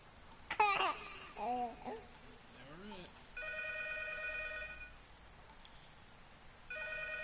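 A telephone rings in the horror video game P.T., a steady electronic trill in two bursts, alongside brief laughter and babbling voices earlier.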